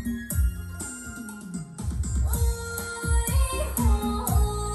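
Music played from a television's 3.5mm headphone output, with punchy bass notes and percussive hits over layered tones, loud and continuous for a few seconds with no talking.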